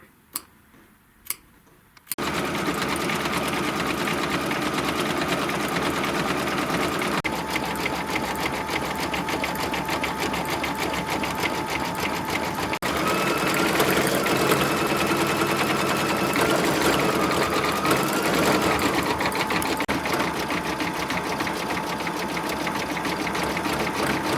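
An embroidery machine stitches a burgundy thread detail, a steady loud mechanical whir with fast ticking needle strokes running continuously after a brief quiet start.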